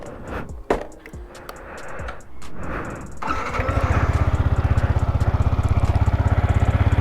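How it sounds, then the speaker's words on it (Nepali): A Yamaha R1 motorcycle cold start: a few clicks and a brief cranking whir, then the engine catches and settles into a loud, close, fast and even idle rumble. "कोल्ड स्टार्ट गरौँ."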